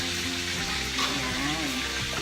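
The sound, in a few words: frying lunch in the pantry kitchen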